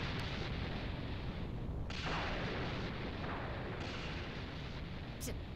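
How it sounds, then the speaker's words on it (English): Explosion in the video game Dragon Ball Xenoverse 2, a steady roaring blast with rumbling bursts swelling and fading over several seconds, loud and continuous with no talk over it. "You were afraid of being caught in the explosion."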